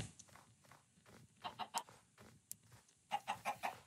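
Chicken in the Minecraft video game gives a run of quick, soft clucks in bursts, mixed with footstep-like taps, fairly faint and with no talk over it.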